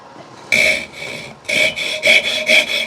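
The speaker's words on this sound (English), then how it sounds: "Cut the kerf deeper." Hand saw cutting a kerf into the head end of a wooden axe handle, in several rhythmic rasping bursts of back-and-forth strokes after a brief pause, close and fairly loud.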